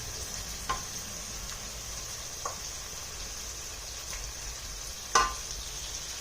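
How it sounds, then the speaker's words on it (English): Steady sizzle of a spicy kofta curry masala frying in a pan, with a few soft plops and taps as meatballs go into the hot sauce, close and continuous without talk. "Let's place the meatball in here"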